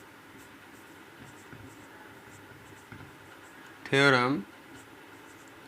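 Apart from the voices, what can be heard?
writing on a board during a maths lesson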